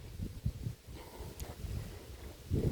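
Strong wind buffets the microphone outdoors in a garden, a steady low rumble with gusty surges, heard alone without talk.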